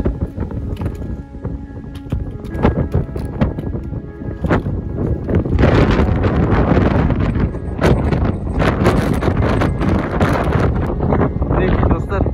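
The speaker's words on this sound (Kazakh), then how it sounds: "Жел қатты." Strong mountain wind roars and buffets a microphone high on Big Almaty Peak, at 3681 m with ice forming, as loud continuous gusts with sharp bursts rising through the clip.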